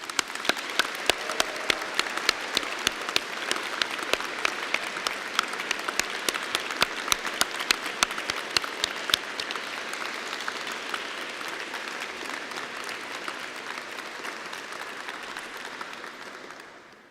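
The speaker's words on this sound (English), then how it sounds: "let's give them a massive round of applause" A large crowd at a university degree ceremony applauds friends and family, thick sustained clapping with sharp individual claps standing out near the front, fading out toward the end.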